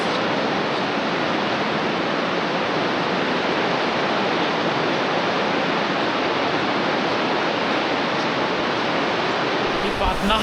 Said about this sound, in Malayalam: ക്ലാമ്പിലേക്ക് കൂടി ഒഴുകി വരുന്ന ഈ വെള്ളം എന്ന് പറയുന്നത് നമ്മുടെ ആൽപ്സ് പർവ്വത നിരകളിൽ നിന്ന് കൂടി ഒഴുകി വരുന്ന നദികളാണ്